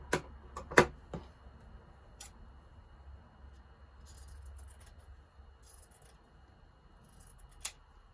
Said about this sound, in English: So, okay, so I'm going to cut this out real quick.